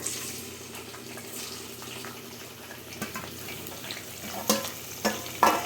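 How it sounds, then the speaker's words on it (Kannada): Green chilies, onion and curry leaves dropped into hot oil hiss and sizzle steadily, with a few sharper spattering bursts and utensil knocks toward the end, close by. "ಮೆಣಸಿನ್ಕಾಯಿ ಹಾಕ್ತಿದ್ದಾರೆ, ಹಾಗೆ ಈರುಳ್ಳಿ, ಕರಿಬೇವು ಸೊಪ್ಪು ಇದಿಷ್ಟು ಹಾಕ್ಬಿಡೋಣ ಎಣ್ಣೆಗೆ"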